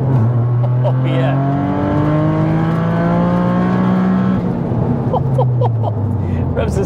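A 530bhp widebody GR Yaris with a big turbo and fully forged engine accelerates hard, the engine note climbing steeply in pitch through repeated revving sweeps, loud and close from inside the car, with brief turbo chirps between gears.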